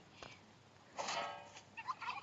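A turkey gobbling in the survival video game Last Day on Earth: two short, bubbling gobble calls, clear and fairly close over a quiet background, with no talk.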